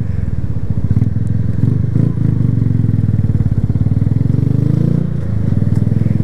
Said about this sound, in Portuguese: E minha moto, ela tá com escape Fortuna, né?